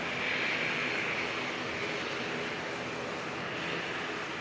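Airliner engines roaring during a rejected takeoff at Auckland Airport, a broad steady rush of jet noise heard from a distance, sustained without a break.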